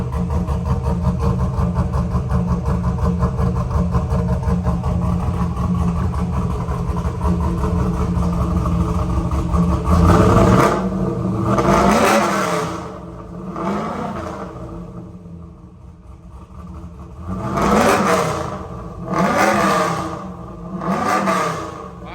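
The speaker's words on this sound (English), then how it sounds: "Let's rev it up." Fully built big-cam WS6 V8 idles with a loud, choppy lope, then revs hard several times in separate rising-and-falling bursts with brief drops back to idle between them, close and powerful.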